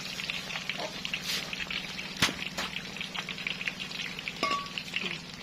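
Tempe with spices sizzling and crackling steadily in oil in a pan close by, with occasional clinks and scrapes of a utensil stirring.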